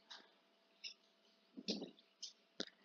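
Several quiet, sharp computer mouse clicks come in an uneven sequence, one about every half second to second, with a faint steady hum underneath.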